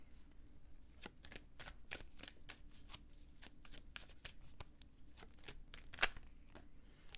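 A deck of tarot cards is shuffled close by, giving a quiet run of crisp, irregular riffling snaps and slides with no talking.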